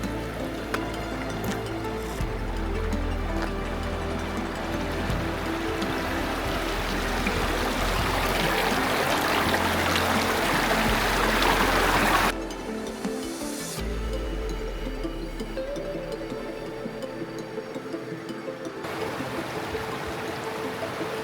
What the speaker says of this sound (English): We start following this little stream that feeds Heart Lake